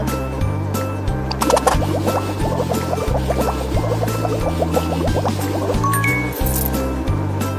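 Squishy, bubbly lathering of shampoo being worked into hair in a children's summer-camp dress-up game, wet squelches and little clinks repeating over a looping bouncy background melody.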